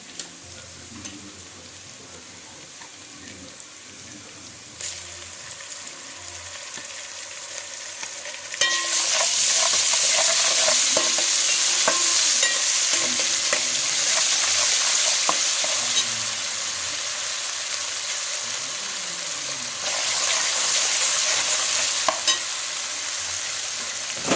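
Onions frying in a pan with ginger garlic paste for a gongura prawn curry: quiet stirring and scraping at first, then a sudden loud, bright sizzle that holds steady, dips slightly and swells again, with occasional utensil clicks.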